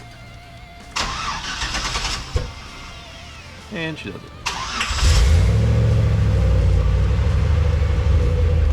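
A starter cranks briefly, then a 5.3 LS V8 with an NV4500 transmission in a 1949 Jeep Willys pickup catches and settles into a deep, loud, rumbling idle close by; someone speaks briefly before it fires.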